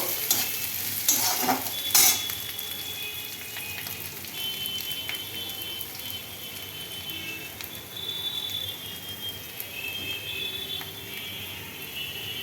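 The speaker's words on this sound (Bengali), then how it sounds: "এখন পেঁয়াজটা আর একটু ভাজা হবে, এই যে হচ্ছে। এই মধ্যে আমি চিকেনটা দিয়ে দিব।" Chicken pieces and onions fry in a pan, giving a steady close sizzle with light stirring scrapes and a few sharper clatters near the start, all without any talking.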